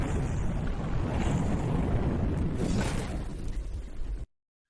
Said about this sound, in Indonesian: Ellie langsung menarik pin granat di celana Bors dan ini yang terjadi